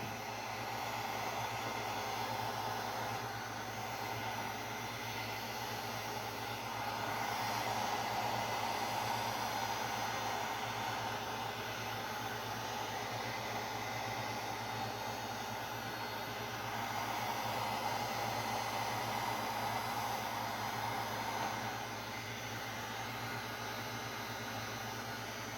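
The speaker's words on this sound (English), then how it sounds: "I'm just going to use my heat gun, warm up the rubber hose underneath" A heat gun blows steadily while warming a rubber heater hose on a 1951 Chevrolet, giving a constant, close whooshing roar with slight swells and no voices.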